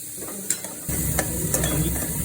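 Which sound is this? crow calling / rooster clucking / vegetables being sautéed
vegetables being sautéed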